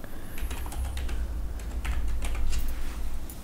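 Fast, light clicking of keys on a computer keyboard, steady and continuous at moderate distance, with a low background hum underneath and no speech.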